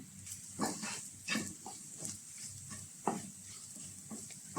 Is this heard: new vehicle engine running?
no